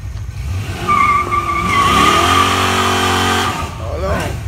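A drag racing car warms up on a late-night street strip in Knoxville, its engine revving as tires squeal and skid in long sustained screeches, loud and close, with voices from the crowd around it.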